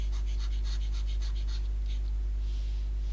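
Stylus drawing on a tablet while retouching eyes in an image-editing program, a series of quick, close scratchy strokes in a rapid rhythm over a constant low electrical hum, then a softer brushing sweep.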